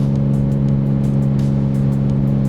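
Loud, steady engine drone of a Lamborghini Diablo VT while driving, with strong sustained harmonics and short bursts of higher noise on top.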